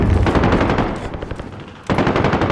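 Rapid automatic gunfire from a video game shooter, loud and continuous, easing briefly before a renewed burst of sustained fire.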